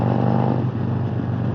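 A 2021 Harley-Davidson Road Glide Special rumbles along at around 50 mph, its exhaust giving a deep, steady low throb with a slight dip midway, heard up close from the rider's position.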